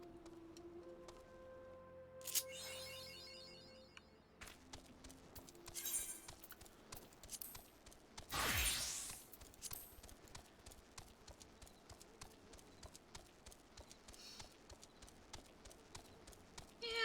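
Chocobo footsteps from Final Fantasy XIV, a rapid, steady clip-clop of running strides pattering throughout, with a louder whooshing swell partway through and other game sounds layered underneath.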